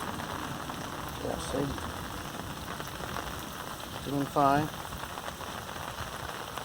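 Rain falls and drips outside after a heavy, flooding downpour, a steady close patter and hiss running underneath brief spoken remarks.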